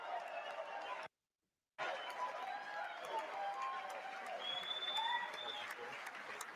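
Steady applause from a crowd fills the space, briefly cutting out to silence before resuming, with scattered whistles and chatter mixed in.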